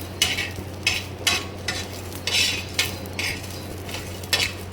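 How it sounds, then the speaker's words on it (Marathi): Chana dal is roasted in a pan, with a spoon repeatedly scraping and stirring the dry lentils in brisk, regular strokes over a low steady hum, close and fairly quiet. "तर याला छान भाजून घ्यायचं."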